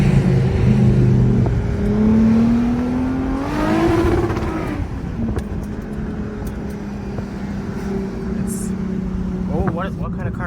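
A Lexus IS350 with a straight-pipe exhaust revs up and down in rising, falling sweeps, with sharp crackling pops from the exhaust toward the end; a voice is briefly audible.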